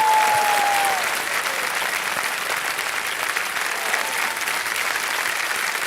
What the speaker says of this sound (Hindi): तालियां बजती रहे एक बार इनके लिए जोर से।